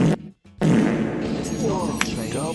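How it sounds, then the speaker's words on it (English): A reverb fart sound alert plays on a charity livestream, a loud, drawn-out fart noise with an echoing tail after a brief gap, with talking around it. "the regular reverb fart."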